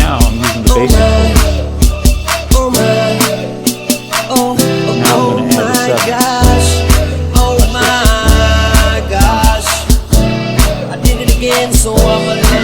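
Basic piano chords ring out loud and near, a steady run of rhythmic chord strikes with a few sustained stretches, played solo for several seconds with nobody speaking.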